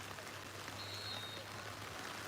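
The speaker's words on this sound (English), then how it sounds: "Now the rain really starting to pick up here." Steady rain falls during an outdoor high school boys lacrosse game, a faint continuous hiss of drops spread evenly throughout with a low background hum.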